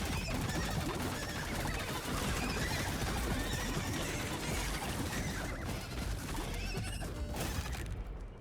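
Dozens of duck-sized horses in the video game How Many neigh and whinny nonstop, a loud crowded chorus of shrill horse calls layered over hoof clatter and game noise, with no talking.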